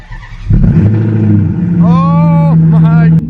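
A straight-piped Maserati GranTurismo MC starts with a sudden burst, then its engine roars and revs in a rising, falling sweep, loud and close before cutting off sharply. Voices talk over it.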